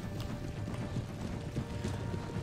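Horse hooves clip-clopping in the Napoleon: Total War strategy game, a steady run of overlapping hoof beats under a dense battlefield ambience with a faint constant hum, moderately loud and continuous throughout.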